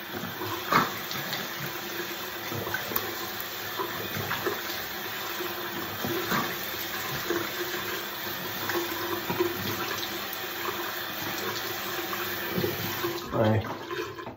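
Tap water runs steadily into a sink while someone rinses off after a shave, a continuous close splashing hiss with small bursts of spatter and no pause for about fourteen seconds.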